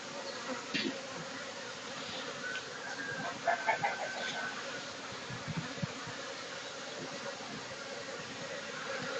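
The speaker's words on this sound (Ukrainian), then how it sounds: "Самосильна сім'я на моїй пасіці." A honeybee colony hums at an apiary in late winter, a steady, fairly faint buzz with passing bees droning louder near the hive now and then.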